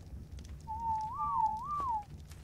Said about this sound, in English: Just whistling at my egg?